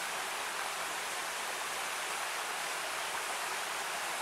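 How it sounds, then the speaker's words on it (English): A woodland creek flows just below a waterfall, a steady, even rush of water with no voices. "here's the creek for the waterfall"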